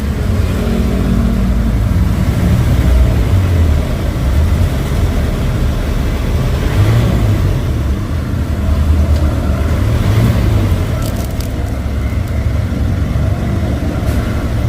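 The engine of a 2013 Mitsubishi Strada pickup runs in neutral after starting, a loud, close, continuous low idle rumble with slight rises in revs throughout and no talk over it.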